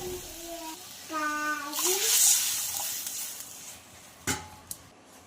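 Water is poured from a small bowl into a pot while making semolina sheera, a short splashing gush preceded by brief tonal sounds and followed by a couple of clinks of metal.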